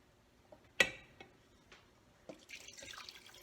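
Water is poured into a hot chocolate mixture in a pot: a few faint clinks and taps, then a soft splashing pour near the end, quiet and close.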